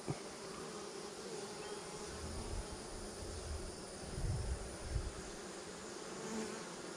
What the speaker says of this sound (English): you got some good little bees